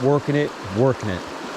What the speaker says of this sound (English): look at this fast water